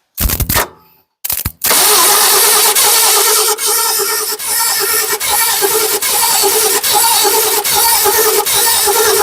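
An old Ford truck that has sat for ten years cranks loudly and unevenly after two brief false starts, the starter churning with a rough, rhythmic chug that stays close and steady.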